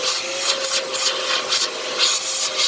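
A loud, steady whooshing roar of a vacuum cleaner clearing an engine bay on a Mazda Tribute 3.0 V6, with rhythmic surges as the nozzle moves, running close by without any talking.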